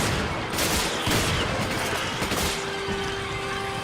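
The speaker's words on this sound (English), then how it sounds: "use the shotgun to shoot him as many times as you can" Rapid shotgun blasts fired at a boss in Resident Evil 5, loud and dense, with booming impacts in quick succession over a rumbling game backdrop.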